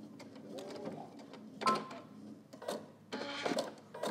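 A domestic sewing machine stitching fabric while backstitching and pivoting on a sewing pattern, in short motor bursts separated by pauses, close and fairly quiet with no talk.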